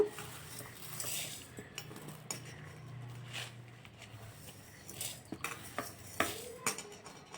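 Toor dal goes into a pan to be roasted for homemade rasam powder. Quiet, scattered clinks and scrapes of a metal spoon against the pan come in irregular taps.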